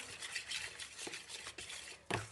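Cream mixture for a yeast-free pastry dough stirred by hand, a soft continuous scraping and swishing with brief louder strokes near the end, close and quiet, with no talking.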